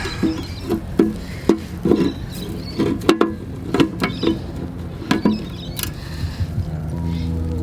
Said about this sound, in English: I'm just gonna try and bend it a little bit with these needle nose pliers